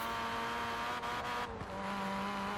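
A Hyundai Veloster N revs hard in Forza Horizon 4, its engine holding a loud, steady high-rpm drone with a brief shift dip before climbing again, and a faint tire squeal under the engine note.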